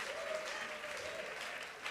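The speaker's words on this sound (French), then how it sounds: "On peut l'applaudir" A crowd at a Christian women's gathering applauds the event's head chef, a brief, even patter of clapping heard at a distance and fairly faint.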